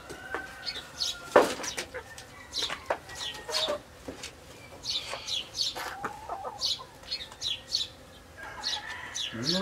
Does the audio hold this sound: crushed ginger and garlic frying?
no